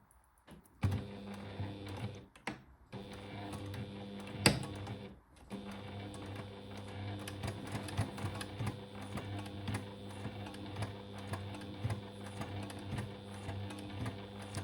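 Sewing machine topstitching close to the edge of a jersey pocket on a beginner's corsair garment, a steady mechanical whirr running almost continuously after a short start, with a few brief pauses and clicks.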